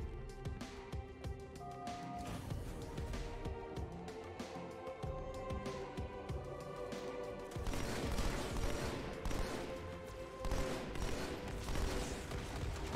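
Bursts of weapon fire in Halo 2, rapid crackling shots arriving in clustered volleys over a background score, growing louder and busier in the second half.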